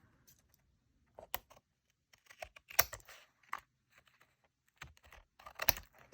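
Scissors trim the edges off a paper collage with faint, scattered snips and crisp rustles of paper, quiet and close, separated by short pauses.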